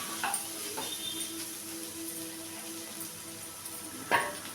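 Prawn masala curry is stirred in a pan, a soft continuous sizzle with a few faint scrapes of the spoon, close and fairly quiet, with no talking.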